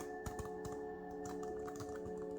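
Fingers tapping on the keys of a Uogic Bluetooth keyboard for the Surface Pro, a quick irregular run of light clicks over a steady electronic hum.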